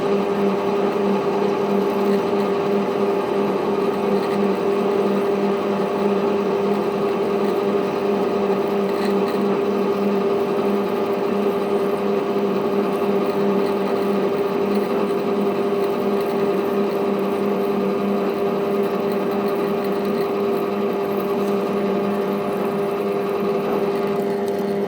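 A lathe parts off stainless steel under power feed, giving a loud, steady machining drone with a strong sustained tonal whine that runs unbroken throughout, with no talking.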